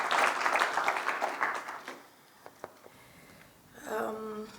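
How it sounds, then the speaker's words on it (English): Applause from a workshop audience at an opening session, fairly soft and diffuse, filling the first two seconds, then fading into a quiet room, with a few faint taps and a voice starting to speak near the end. "A round of applause again to our Geo Secretariat for the powerful"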